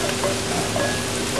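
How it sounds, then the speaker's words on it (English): Lamb and vegetables browning in a pan for navarin stew, a steady close sizzle with faint scraping, no voices. "Now we're going to brown them in the same pan and remove the sediment from the base to add flavour to the stock."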